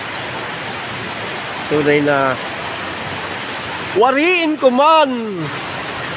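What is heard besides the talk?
heavy rain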